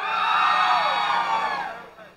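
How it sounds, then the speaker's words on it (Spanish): Loud whoops and cheers from a crowd at a contest in Quilalí greet a woman named Walkiria, a dense, close swell of many voices fading toward the end. "¡Aplauso para Walkiria!"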